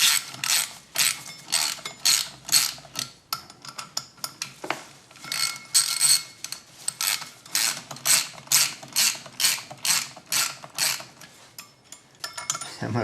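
6 by 45 mm screws being driven into holes while rebuilt parts are installed during a 16k service, a dense run of quick ratcheting clicks in rapid bursts, close and fairly loud, with no talk.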